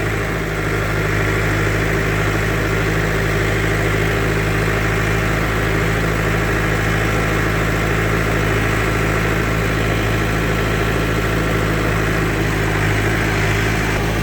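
Tractor engine idling near flooded rice fields, a steady low throbbing drone with a constant hum, close and loud throughout, with no voices over it.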